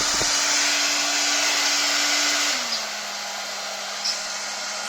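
A Stilevs Fönmatik FN-778 hair dryer runs with a steady, loud airy roar and a low motor hum, dropping slightly in pitch and level as its setting changes partway through, with no speech.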